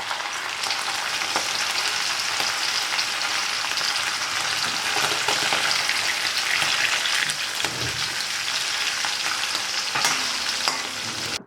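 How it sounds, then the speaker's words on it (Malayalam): Anchovies fry in coconut oil in a pan with a steady, close crackling sizzle that holds unbroken throughout, with small pops and spatters and no talking. "ഇപ്പോൾ നമ്മുടെ ഫിഷെല്ലാം വറുത്തെടുത്തിട്ടുണ്ട്"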